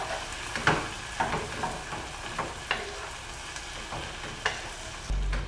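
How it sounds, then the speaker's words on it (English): Tomatoes, onions and mushrooms sizzle softly in a pan while a utensil stirs them, making repeated scraping knocks at irregular intervals over a low, steady frying hiss. "I'm gonna add the tomatoes to the onions and the mushrooms."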